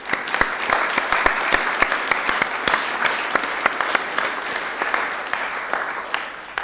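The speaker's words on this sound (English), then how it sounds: "So let's give ourselves a round of applause." Dense audience applause fills a conference hall at RustFest Rome 2018, with many hands clapping steadily and loudly, holding an even level throughout with no speech.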